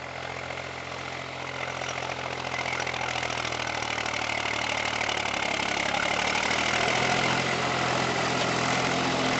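Tractor engine running hard under full load, a loud steady mechanical drone that holds without a break throughout, with no voices over it.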